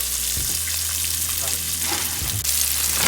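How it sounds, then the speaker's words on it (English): Onions are dropped onto a hot hibachi griddle at home. They give a loud, steady, close sizzle with a few scraping stirs, and a low hum sits underneath. "I put the onions on down."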